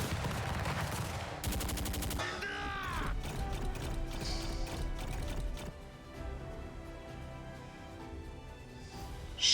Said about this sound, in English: Artillery first